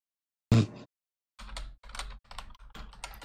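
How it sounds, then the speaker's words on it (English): A sharp tap, a brief pause, then steady rapid keyboard typing, close and clear with no voices. "how's my typing now?"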